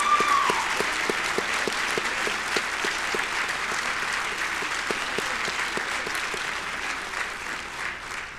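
An audience at a 2023 winter liberal arts commencement ceremony claps steadily for faculty and staff, a dense, sustained applause with sharp individual claps standing out near the front and a brief whistle at the start.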